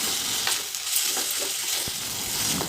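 Tomatoes and onions sauté with salt in a pan for a fish curry, giving a steady close sizzle with light scraping stirs breaking through now and then, and no voices.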